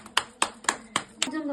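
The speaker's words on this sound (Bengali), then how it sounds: "জোরে জোরে হাততালি দে" Hands clapping loudly at a cake cutting, six sharp claps in a steady rhythm close by, with a voice chiming in at the end.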